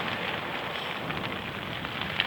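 Rain patters steadily on a tent at a wild camp by the sea near Southwold and Walberswick. The dense, even hiss of drops is close, continuous and moderately loud, with no talk.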